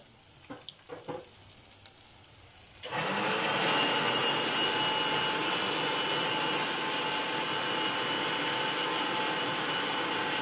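A mixer grinder bursts into a loud, even whirring roar as it grinds onion and yogurt, after a few quiet clicks and knocks, then runs steadily with no voices.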